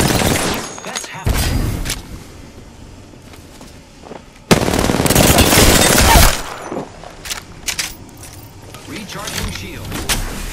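Gunfire in the video game Apex Legends sounds in dense, loud bursts and rattling volleys, with a strong impact burst near the middle, mixed with other game effects and occasional voice.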